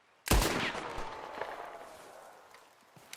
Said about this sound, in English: But now listen to the Cattleman revolver.